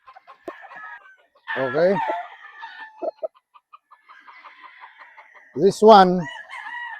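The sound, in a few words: white brood stag rooster clucking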